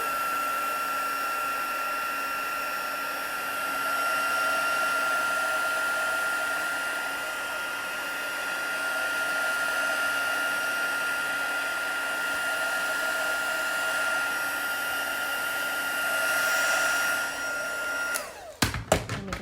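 A hair dryer blows steadily and close for a long stretch, drying a watercolour painting, with a constant whirring hum and whine that cuts off abruptly near the end with a few clunks.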